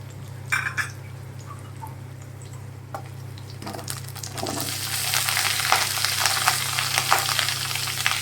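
Potatoes and onions fry in oil with garlic and chili, quiet at first with a few clinks, then the sizzle swells into a loud, steady crackle as the pan gets going; no one speaks.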